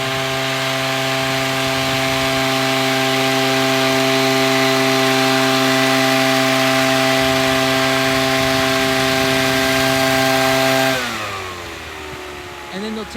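A loud lawnmower-like tea harvesting machine cuts green tea leaves in Shizuoka, Japan, droning with a steady engine hum and cutting whir, then winds down and fades near the end.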